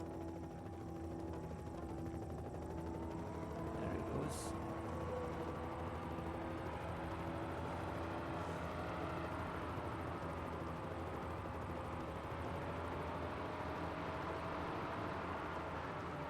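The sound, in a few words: helicopter flying overhead in Knight Rider PS2 video game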